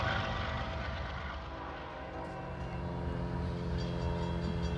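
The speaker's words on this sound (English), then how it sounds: "No sooner a slab train goes through, we got an eastbound coming here." An eastbound BNSF freight train passes close by, its locomotives and rail cars producing a loud, steady rumble and rolling clatter with a faint horn-like tone rising near the end.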